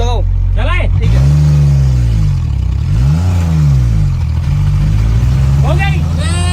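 A Maruti Alto car engine in reverse gear starts without a push and revs up and down in loud, close, repeated swells, with voices talking over it briefly.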